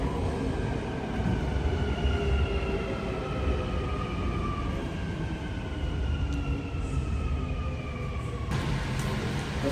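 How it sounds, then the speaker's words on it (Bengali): A Dubai Metro train bound for Expo 2020 arrives at the platform, its rising electric motor whine and steady rumble filling the station continuously for the whole stretch, loud and close, with no speech. "The train to Expo 2020 will arrive at platform 2."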